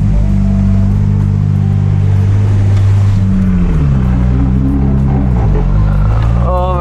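A car engine on its first test drive runs loud and close, with a steady low drone that rises and wavers in pitch as it accelerates partway through.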